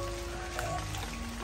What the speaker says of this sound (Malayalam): അപ്പം നല്ല മഴയും പെയ്യുന്നുണ്ട്.